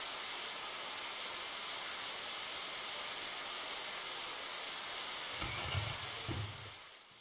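Steady, dense video game rain hiss fills the whole stretch, with a couple of low rumbling swells of thunder near the end.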